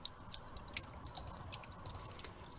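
Water drains steadily out of a flushed Volkswagen T5 windshield washer fluid bottle, a close continuous trickle scattered with bright drips and splashes.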